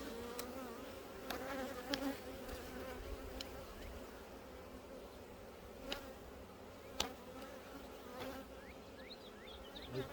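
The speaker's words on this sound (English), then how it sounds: "all these bees buzzing. Because they're angry" A swarm of angry bees buzzes densely and continuously around a suited beekeeper, a steady close hum with occasional louder passes and sharp clicks.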